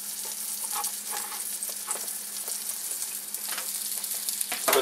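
Chopped hot link pieces sizzle and fry in a hot pan, a steady close crackle with scattered pops and brief stirring scrapes, no voices.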